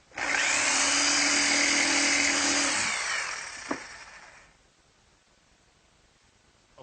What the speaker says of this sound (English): And now I'll just finish those cuts with my jigsaw.